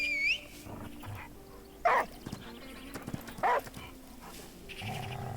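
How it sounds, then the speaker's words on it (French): A few short dog barks in the video game The Last Day of June ring out, spaced apart over quiet background tones and soft electronic chimes. "Là, on va appeler le chien."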